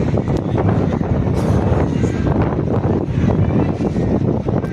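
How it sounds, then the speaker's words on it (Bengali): Sea breeze at Digha beach buffets the microphone, producing a loud, steady low rumble with gusty swells that runs unbroken from start to finish. "সমুদ্রের হাওয়া আসছে"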